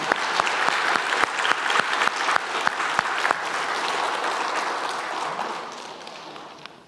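A church congregation at a Korean Sunday service applauds in welcome, loud dense clapping with a few sharp near claps standing out, gradually fading away toward the end.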